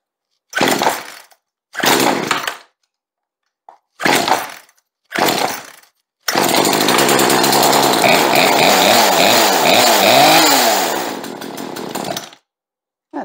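A Poulan two-stroke chainsaw with a new carburetor is pulled several times in short bursts, then catches and runs loud and close with a ragged, rising and falling engine note before cutting out.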